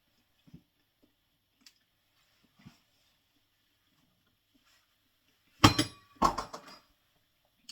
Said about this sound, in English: I just dropped my spoon on the floor.